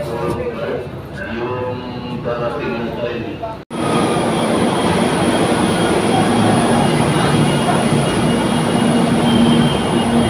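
Loud, continuous rumble and roar of an MRT metro train in motion in the Philippines, with a sharp cut partway and steady high whine and rolling noise after; voices mixed in early.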